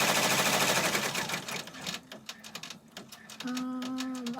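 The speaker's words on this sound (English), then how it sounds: "It's going to stitch the inches and the time that she was born." An embroidery sewing machine stitches at speed with a dense, rapid buzzing rattle, then slows into separate ticking stitches and ends on a steady tonal whir, all close and without talk.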